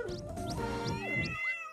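A cartoon cat meows in the Tasty Planet video game, with a few rising tonal calls over a busy game music bed and chimes; it is brief, close and clear, with no talk.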